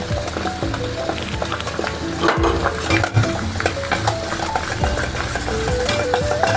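A spoon stirs a herbal soap mixture of manjistha and licorice powder with coconut oil in a bowl, giving continuous close scraping and swirling with occasional clinks against the container and no voices.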